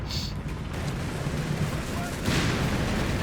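A tank shot striking a Sherman in Company of Heroes 3: a sharp crack, then rumbling battle noise and a second heavy boom near the end, under a commentator's voice.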